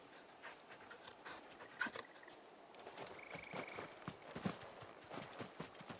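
Torgal, the large wolf-dog companion in Final Fantasy XVI, panting close by in quick breathy bursts with soft footfalls and shuffling, quiet and steady, with no talking.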